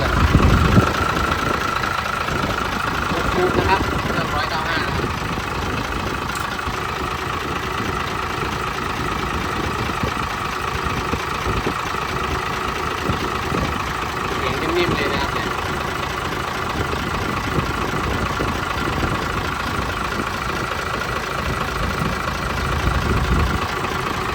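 A Hino FN527-MA trailer truck's diesel engine runs at a steady idle with a rough, knocking rumble, continuous and fairly loud; someone talks over it now and then.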